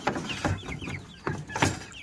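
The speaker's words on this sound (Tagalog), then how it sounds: "Dito yung first batch ko na sisiw." Chickens and young chicks on a farm cluck in short, uneven bursts, fairly close, with several birds calling over one another.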